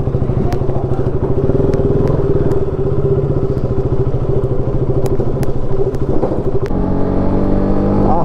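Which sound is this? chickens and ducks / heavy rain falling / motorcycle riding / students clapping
motorcycle riding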